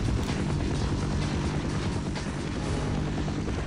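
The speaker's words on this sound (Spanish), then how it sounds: "está el helicóptero" Military helicopter in the 1998 PC game Half-Life, a steady, loud rotor drone holding constant throughout, with no speech.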